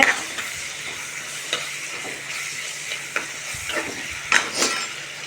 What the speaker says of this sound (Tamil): ஆனியனை நல்லா ஃப்ரை பண்ணிக்கோங்க